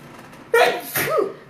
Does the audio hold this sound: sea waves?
no